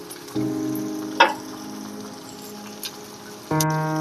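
Freshly pounded ginger-garlic paste sizzles in a hot pan for vegetable rice, a steady soft frying crackle with a brief sharp clatter near the start, and background music.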